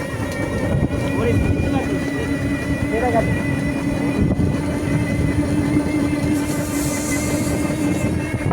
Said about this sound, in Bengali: দেখো মোটর সাইকেল আসতেছে, পুলিশের মোটর সাইকেল